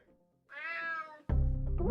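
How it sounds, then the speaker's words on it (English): A cat meows once in the video game UnMetal, a clear drawn-out cry, followed by a sudden louder low-pitched game sound. "Damn cat."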